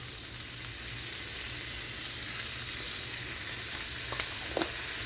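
Garlic fries in a pan for a chicken and cabbage stir fry, giving a continuous, fairly soft, even sizzle with a couple of faint clicks near the end and no talk.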